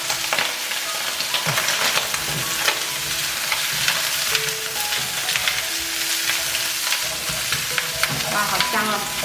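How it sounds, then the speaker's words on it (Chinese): Beef brisket stir-fried with ginger, garlic and onion in melted butter gives a loud, steady sizzle, with scraping stirs throughout and no talking. "把牛腩呢炒到有一点点焦斑的时候呢，我们把姜、蒜跟洋葱放进来翻炒"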